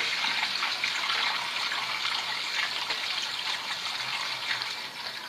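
Water poured into a Terrot VMS2 scooter makes a soft, continuous trickling splash that stays fairly quiet and steady throughout, with no speech.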